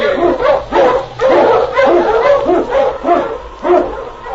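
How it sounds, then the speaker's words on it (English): Eskimo husky sled dogs bark and yip in rapid, rhythmic bursts on a snowy trail, loud and close, with some whimpering mixed in. "King, the swiftest, strongest of Eskimo lead dogs, blazes the trail through storm and snow for Sergeant Preston"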